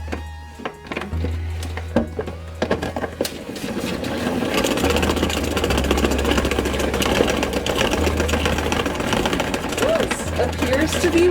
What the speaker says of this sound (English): you could use a salad spinner to spin out the yarn